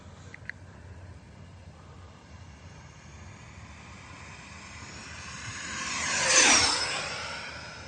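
An L-39 RC model jet makes a half power pass over an outdoor field in St. George, Utah. A steady distant hum swells into a loud rushing jet roar as it sweeps close by, then fades away as it passes.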